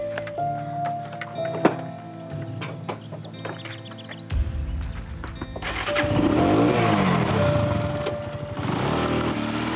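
A motorcycle engine catches midway through with a low rumble, then settles into a steady, loud idle drone that fills the rest of the clip over a busy background.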